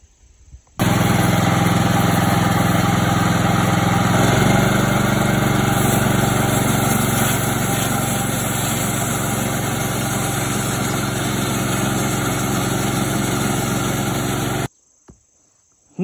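An engine-driven sawmill cutting beams gives a steady, loud, droning engine whine with a constant high buzz that runs unbroken for about fourteen seconds before stopping abruptly.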